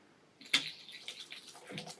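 Water spurts and splashes from newly installed household plumbing as air is bled out through a valve, with a sharp burst followed by uneven sputtering and trickling, close and fairly quiet, with no talking.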